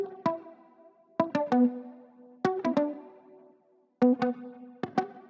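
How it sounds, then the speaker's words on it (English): Muted guitar sample for an Afrobeats beat, playing short plucked notes in clustered groups of two and three with brief gaps, each note dying quickly, moderately loud and alone with no voices. "I found that this mute guitar which sounds like this"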